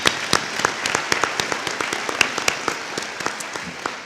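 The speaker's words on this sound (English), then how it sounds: "So I think we all should give a round of applause to the man that made this possible, Mr. Lamont Robinson." Applause from the audience at the National High School Football Hall of Fame induction ceremony, sparse individual claps standing out over a steady patter for about four seconds, with no talking.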